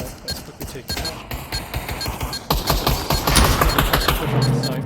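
Rapid bursts of gunfire crackle through a team match, dense volleys and single shots stacking up and growing heavier toward the end, with a low hum entering late.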